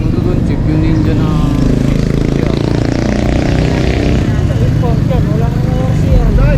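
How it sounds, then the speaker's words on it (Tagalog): A big-bike motorcycle engine runs loudly and steadily up close, holding a constant drone under someone talking over it. "Ang ingay ng motor nyo, patayin mo na yun sa'yo."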